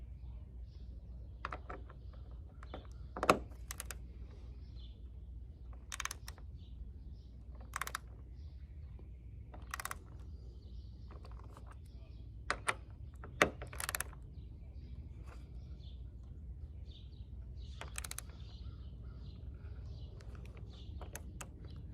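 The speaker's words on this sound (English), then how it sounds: "I'm going to reverse the ratchet and take it in a bit." Scattered sharp clicks and short mechanical ticks from a ratchet working Loctite-secured roof rack bolts back and forth on a Toyota 4Runner TRD Pro, close and fairly quiet over a low steady background hum.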